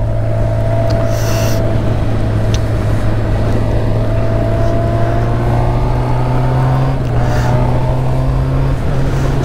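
A 2012 Honda Hornet fitted with a link pipe in place of its catalytic converter runs on a rainy test ride. Its engine drones loud and steady close up, with the pitch slowly rising as it accelerates, and no talking.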